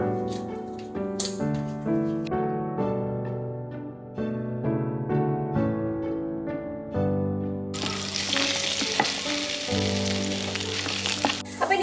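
Four cubes of butter melt and sizzle in a hot pan while broccoli soup is being made. Tonal sounds come first, then a bright, hissing sizzle takes over for the last few seconds.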